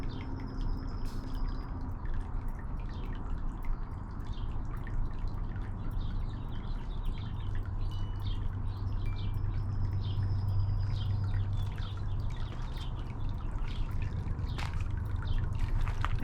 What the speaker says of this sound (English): Now here's the water feature in the garden.